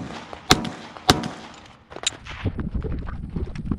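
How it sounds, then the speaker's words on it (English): A Glock 45 pistol fitted with a Holosun 507C X2 red-dot sight and a Streamlight TLR-1 light fires three sharp, loud shots spaced about half a second to a second apart. Scuffing and rustling noises follow the shots. "I'm just gonna fire these last 3."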